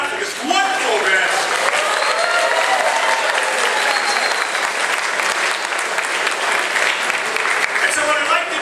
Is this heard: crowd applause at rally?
yes